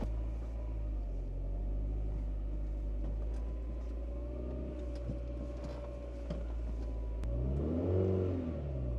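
A Honda Prelude engine idles roughly, then revs up near the end with a rising and falling sweep, a steady close mid-pitched rumble throughout.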